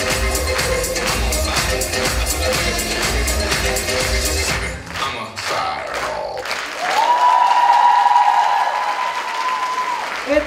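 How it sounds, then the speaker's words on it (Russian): An audience applauds after a salsa dance performance, with dense, steady clapping from a sizeable crowd for about five seconds before it thins out; a voice then speaks over a sustained tone. "Давайте проводим ребят бурными аплодисментами"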